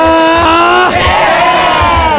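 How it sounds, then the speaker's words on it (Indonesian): A studio audience at a live Indonesian talk show roars and cheers loudly and continuously, with sustained tonal horn-like sounds gliding through the crowd noise. "Kasih tepuk tangan sekali lagi."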